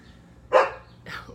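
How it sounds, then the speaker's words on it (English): A dog wanting to be let out gives one sharp, fairly loud bark, then a second softer bark a half second later, with no talk. "my dog wants out"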